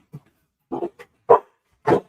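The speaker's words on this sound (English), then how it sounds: "Dog on TV." A dog barks from a television, several short separate barks with small gaps between them, fairly clear against a quiet room.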